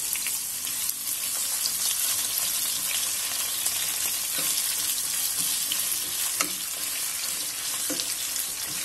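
Onion cut into julienne strips, with garlic, sautéing in a pan until translucent: a steady close sizzle and crackle of frying with occasional stirring clinks, and no talk.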